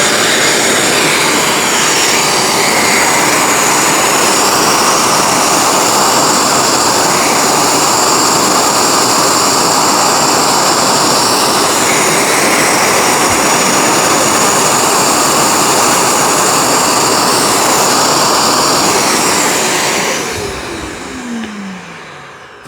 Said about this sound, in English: the pet hair extractor does work with the rinse and go